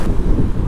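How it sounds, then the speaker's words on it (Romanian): Strong outdoor wind buffeting the microphone in Kazakhstan, a loud continuous low rumbling gust over its brief span with no voices. "Bă, bate vântul, dar nu-i calmă."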